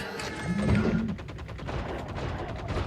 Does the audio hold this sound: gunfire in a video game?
yes